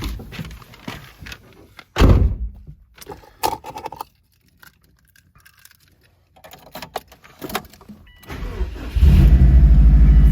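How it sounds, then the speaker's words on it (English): A 2004 Subaru STI with a 3-inch catback and downpipe cranks at about two seconds, fires and idles, then the loud exhaust rumble swells again near the end; no talking. "We're gonna fire it up and pull it out here."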